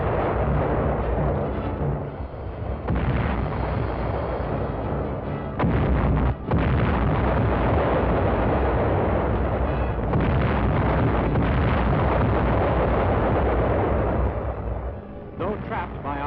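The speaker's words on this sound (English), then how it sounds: "Our artillery went into action." WWII artillery guns fire in combat during the Provence landings, a continuous loud, rumbling barrage of booms and blasts with heavy low-end roar and short gaps, under narration by a voice.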